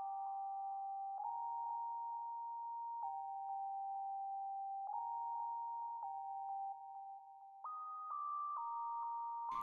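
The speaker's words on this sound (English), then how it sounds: "I just made this sine wave" A steady pure synth sine-wave tone with EQ, reverb and delay in FL Studio holds one pitch, then steps up in pitch near the end, clean and sustained with a soft echoing tail.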